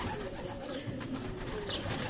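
Soft cooing from a loft of about 50 pigeons murmurs steadily against a dense, noisy background, with low coos repeating throughout.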